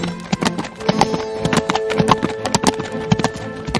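Hooves of a horse carrying Chanakya clip-clop in a quick steady rhythm as it rides off into the night, close and continuous with a faint musical tone beneath.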